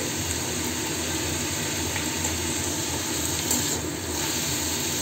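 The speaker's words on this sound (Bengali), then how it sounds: "পেঁয়াজটাকে খুব ভালো করে আমি ভেজে নেব" Onions fry in hot oil in a pan, making a steady, close, continuous sizzle that holds evenly throughout, with no talking.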